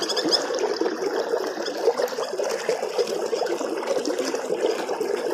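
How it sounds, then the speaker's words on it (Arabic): Water flowing across farmland, a continuous bright trickling and gurgling that stays close and even, with no voices over it. "ما شاء الله صوت الميه ده مريح للاعصاب"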